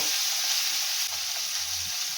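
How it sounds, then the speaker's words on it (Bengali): Steady, loud sizzling of onion and tomato frying together in a hot pan, with faint stirring scrapes underneath. "টমেটোটাও দিয়ে দেবো, একসাথে দুটো ভেজে নেব"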